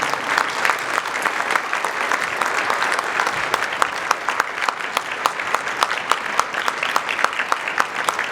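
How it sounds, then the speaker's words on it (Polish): Steady, dense applause from an audience filling a hall at a local-government meeting in support of Ukraine, welcoming guests. It holds at an even level for the whole stretch, with a few sharper claps standing out and no talk over it. "poproszę was o brawa dla nich"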